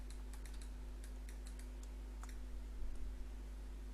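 A sample password is tapped out on a computer keyboard as a quick run of crisp key clicks in short bursts, with no voice over it.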